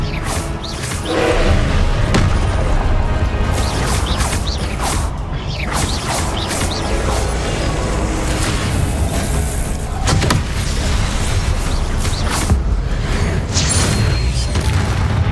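Confringo and Expelliarmus spells in Hogwarts Legacy fire as repeated loud bursts and booming impacts with mechanical creaks and clanks, continuous and dense throughout.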